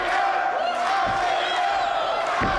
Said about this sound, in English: the fans are cheering for Aztec